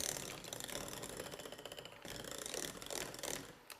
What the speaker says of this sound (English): Just going to whip this together on a low setting.